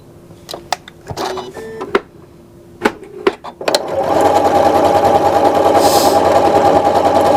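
A sewing machine stitching galloon trim starts after a few scattered clicks and handling taps, then runs loud and steady with a fast mechanical whir.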